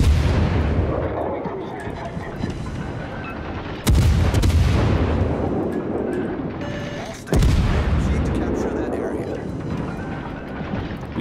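Naval guns of a Tier VI cruiser in World of Warships boom in loud salvos, two sharp blasts each followed by a long rolling rumble that decays slowly, over constant battle noise.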